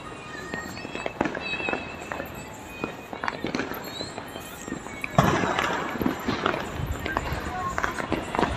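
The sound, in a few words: fireworks and firecrackers bursting at New Year celebration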